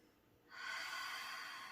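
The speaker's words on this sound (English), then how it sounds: "Take 2 more ha breaths." A yoga breathing exercise: a soft, close breath drawn in through the nose, then a long, steady breathy sigh pushed out through the mouth, sustained for over a second.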